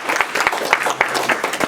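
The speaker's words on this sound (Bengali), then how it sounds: "একটা হাততালি দিই" An audience at a community cultural gathering in New York gives a short burst of applause, sparse and uneven with a handful of distinct claps standing out above the softer patter.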